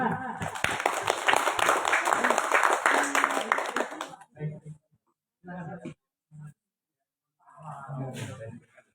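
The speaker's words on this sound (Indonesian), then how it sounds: "Kami persilakan, tepuk tangan." Audience applause at an indoor anniversary talk show event in NTB, a dense burst of clapping for about four seconds that stops abruptly, followed by brief bits of speech from the host.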